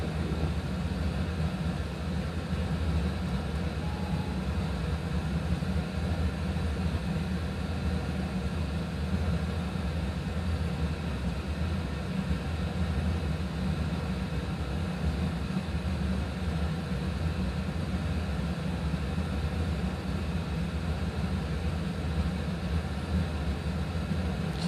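A steady, even roar of airliner jet engines at takeoff power fills a cockpit view in a flight simulator during an online air traffic control event, constant and droning with no talk over it.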